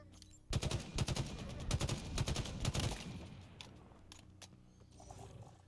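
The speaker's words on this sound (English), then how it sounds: "This barrel. assault rifle feels amazing." Rapid bursts of assault rifle fire in Halo Infinite, loud and close, in sustained automatic strings for about three seconds before dropping to scattered quieter shots and game ambience.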